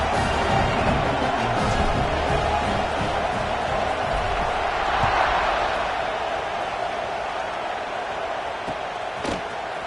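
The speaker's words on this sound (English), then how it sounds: "this crowd is buzzing after that last score" A football stadium crowd in the NCAA 26 video game hums in a dense, steady roar after a touchdown, broad and constant throughout with a soft thump near the end.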